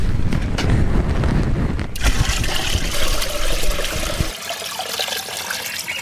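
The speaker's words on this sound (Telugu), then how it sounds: "ఐదు లీటర్ల నీళ్ళు తీసుకున్నాం కదా, ఆ నీళ్లు కూడా ఇందులోకి కలుపుకోవాలి." Five litres of water are poured from close by into a cow urine mixture, a loud, continuous gushing splash lasting about four seconds that thins to a lighter trickle at the end.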